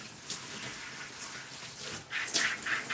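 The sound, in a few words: shower water rinsing hair and tools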